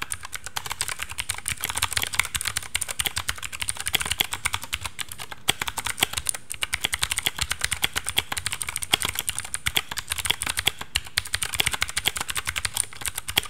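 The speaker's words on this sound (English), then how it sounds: "I opted for blue switches because I get a high hearing that clickety clang." Rapid, steady clicking of typing on a Blitzwolf BW-KB1 mechanical keyboard with blue switches, crisp and close, a dense run of keystrokes with no voices.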